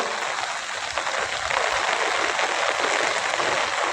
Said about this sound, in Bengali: এখনও অনেক বৃষ্টি হচ্ছে।